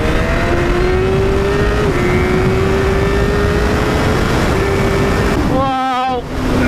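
A Suzuki GSX-R1000R motorcycle accelerates hard, its engine note rising steadily through a gear, loud and close over heavy wind noise, ending in a rapid warbling rev change.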